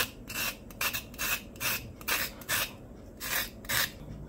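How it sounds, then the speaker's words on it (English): A kitchen knife scrapes the skin off a raw carrot in short, raspy strokes, about a dozen quick rhythmic passes, close and fairly quiet with no talking. "Just cut it like that, and you're gonna scrape with the knife."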